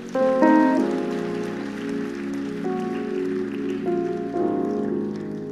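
Church congregation clapping hands together during a Sunday healing service, sustained loud applause that swells and fades over several seconds with no voices over it.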